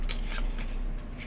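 Board game cards being shuffled: several quick papery riffling bursts, close and fairly loud, with no talking.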